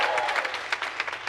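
Steady audience clapping at a Camp BroaderWay theater show, a dense patter of many hands continuing evenly throughout at moderate volume.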